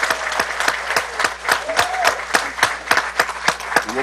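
Audience at a school district board meeting applauding retirees for their service, a steady round of clapping from a room of people with distinct sharp claps standing out, continuous throughout.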